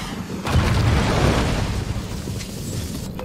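A grenade blows up in Call of Duty Warzone, a heavy close boom that rolls into a rumbling tail, with a smaller burst afterward.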